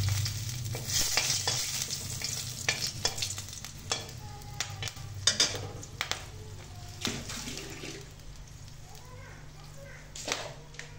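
A bay leaf and two dried red chilies fry in oil, giving a soft crackling sizzle broken by stirring clicks and scrapes, fairly quiet throughout.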